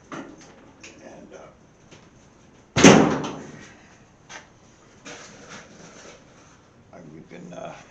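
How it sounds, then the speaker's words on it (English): A door on a 1929 Chrysler car is forced open with one sharp, loud bang and clatter midway, set among quieter scraping and handling noises nearby. "broke this door open"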